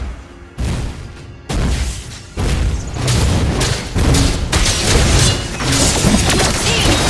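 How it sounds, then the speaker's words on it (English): In a Star Wars video game, a turret is destroyed with a heavy booming blast, and dense crashing explosion noise follows in several loud surges that fill the clip. "Your team destroyed the turret"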